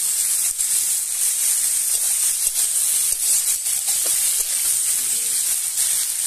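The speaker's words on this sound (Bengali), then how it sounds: "তাহলে পেঁয়াজগুলো একটু ভালো ভাজা হবে" Onions, green chilies and chopped tomato frying in hot oil for a crab curry give a steady, close hiss that runs unbroken throughout, with no voices.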